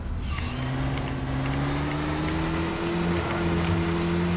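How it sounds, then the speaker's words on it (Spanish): A car in Call of the Wild: The Angler drives steadily along dirt paths, its engine droning at a constant moderate level with a slowly rising pitch, with no talk. "Pues va bastante bien, el coche,"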